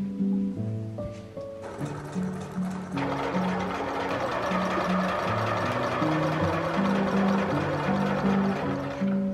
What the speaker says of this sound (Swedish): som ni ser här så har jag vikt in kanten och kommer då bara sy runt hela.